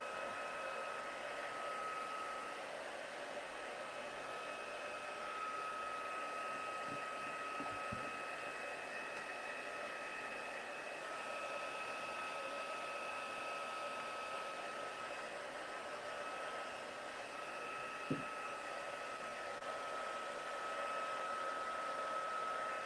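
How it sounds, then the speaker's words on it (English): A hair dryer blows steadily on a steampunk chest craft project, a continuous even whir with a faint hum that runs unbroken for the whole stretch, with no talking over it. "Okay, so I'm going to dry it."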